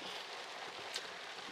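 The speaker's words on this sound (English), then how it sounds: "So y'all, the most annoying thing, I'm sure you can hear it. It's raining." Steady rain drumming on the roof and windows of a parked car, heard from inside as a constant soft hiss with occasional louder drops, no voices.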